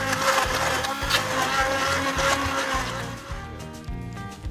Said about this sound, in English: Got my little wand blender here.